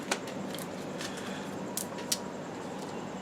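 Tarot cards are shuffled in a few quiet, brief bursts of papery flicking and slapping against a soft, hushed background.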